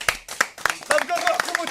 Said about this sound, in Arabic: تصفيق المهيمن علاء.